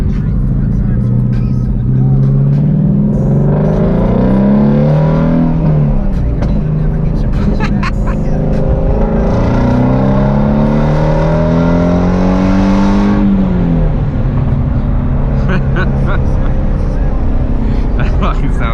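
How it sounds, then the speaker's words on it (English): A Ford Mustang GT350 fitted with a Borla ATAK exhaust drives and accelerates, its loud engine note rising and falling through gear changes, heard up close from inside the car. "it's our first drive with the new exhaust"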